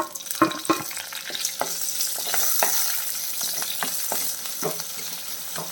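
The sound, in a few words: crushed ginger, garlic, shallots and green chili sautéing in pan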